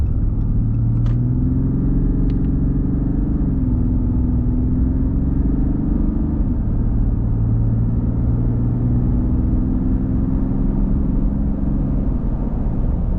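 A stock 2019 Ram 2500 with a Cummins diesel engine accelerates hard from a standstill to 75, its deep, steady engine drone rising and dipping through gear shifts over a constant road rumble, heard from inside the cab with no talking.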